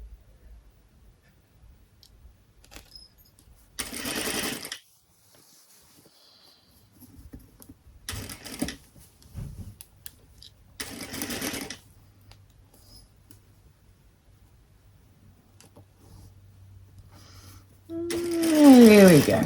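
A sewing machine stitches blouse sleeves in four short bursts of rapid mechanical whirring separated by quiet pauses, close and fairly loud, with faint handling sounds between runs.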